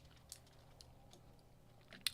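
Chocolate is munched close to the microphone in quiet, scattered soft crunches and chewing clicks, faint overall with one sharper crackle near the end.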